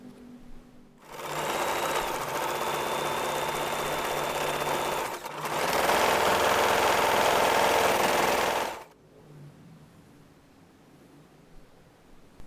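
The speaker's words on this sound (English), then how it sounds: "With the fabric still right sides together, sew both sides." Sewing machine running fast to stitch the sides of fabric pieces, a loud, steady motor whir in two long continuous runs separated by a brief stop, then quiet.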